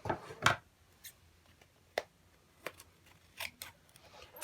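Scissors cut through paper during scrapbook layout crafting: a handful of separate crisp snips spaced about a second apart, close and clear against a quiet room.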